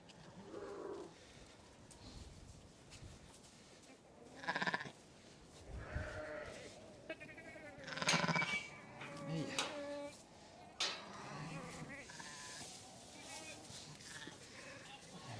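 Sheep and lambs on a Scottish farm during lambing give scattered, faint bleats, some higher-pitched, with a few louder calls spread over the clip and voices audible in the background.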